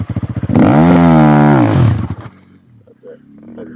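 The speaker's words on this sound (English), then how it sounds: "Just rev the shit out of it and dig the back wheel in, mate." A KTM 450 off-road motorcycle revs hard in sand, a loud close roar that rises and holds for about two seconds after a few short blips, then drops to idle, with a voice faintly underneath.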